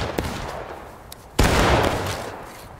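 Musket gunfire in a large multiplayer Civil War video game battle at Pickett's Charge, a dense continuous crackle of distant volleys with a sharp, loud nearby shot partway through.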